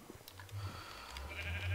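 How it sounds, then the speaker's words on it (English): A sheep in the Minecraft video game bleats once, a faint, short wavering cry at low volume with no talking over it. "Oh, sheep. You're not allowed out there."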